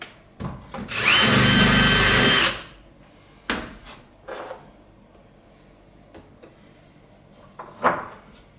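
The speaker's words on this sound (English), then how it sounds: "I'm going to screw those tight." A power drill whirs loudly for about a second and a half, driving screws tight during installation of an 1865 Forster & Andrews pipe organ, followed by scattered knocks and handling clatter of tools and wood nearby.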